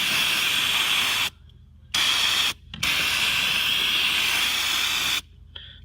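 Brake cleaner hisses from an aerosol can onto a dirty Duramax diesel fuel filter in loud, sustained bursts separated by brief pauses, close up and without talk.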